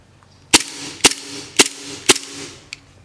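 A second-hand Double Bell M92 gas airsoft pistol fires four sharp, evenly spaced shots about half a second apart, loud and close, followed by a faint click near the end.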